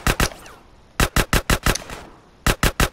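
Bursts of gunfire from a weapon in the game GTA San Andreas: two quick shots, a pause, then a rapid run of five, another gap, and four more loud, close reports.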